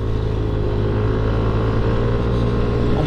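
A Yamaha NMAX 160 scooter drones steadily while being ridden, its engine hum loud and constant, mixed with wind and road noise.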